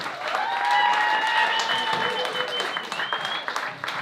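A crowd applauds a poet at a gala and fundraiser, the clapping sustained and fairly loud, with cheering or voices rising over it near the start.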